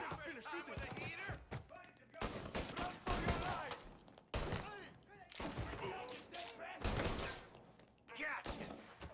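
Gunfire erupts in Mafia: Definitive Edition, repeated bursts of loud shots and rapid volleys with echoing thuds between them, and voices talk amid the shooting.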